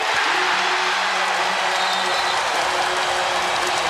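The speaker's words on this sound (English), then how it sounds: "Crowd urging Kobe to shoot." Dense basketball arena crowd roars and cheers continuously through a 2008 playoff Western Conference Finals game against the Spurs, urging Kobe to shoot, loud and sustained with whoops and whistles over a broadcast.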